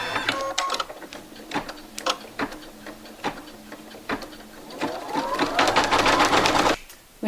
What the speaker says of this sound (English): load your hoop into your machine and start stitching out the design